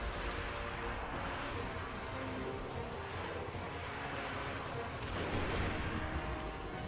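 A grenade goes off in the Destiny video game amid a continuous dense wash of gunfire and combat noise, with a heavier burst near the end of the stretch; a person talks over the battle.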